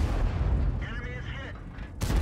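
Gunfire in a tank-style video game, a clip emptied at a target with auto-aim, heard as heavy booming shots under a continuous rumble, with a brief whining sweep in the middle and a voice talking throughout.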